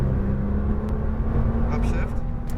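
Nissan GT-R R35 engine pulling at full throttle on a track, a steady low droning roar heard from inside the car under a coach's voice giving instructions.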